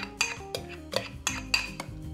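Cubed butternut squash clatters into a food processor bowl with roasted garlic, several distinct knocks and clinks in a loose irregular rhythm, close and fairly loud.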